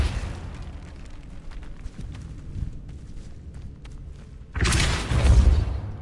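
A Depulso force spell cast in Hogwarts Legacy, heard as a loud, broad whooshing burst near the end after a stretch of quieter game ambience with scattered small clicks and steps.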